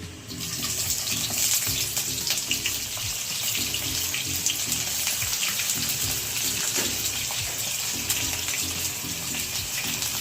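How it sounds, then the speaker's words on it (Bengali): Sliced onions fry in hot white oil in a kadai, giving a constant, loud bubbling sizzle that runs unbroken for about ten seconds, with faint clinks underneath and no voices. "তেল গরম হয়ে গেছে। এবার এতে আমি পেঁয়াজগুলো দিয়ে দিচ্ছি।"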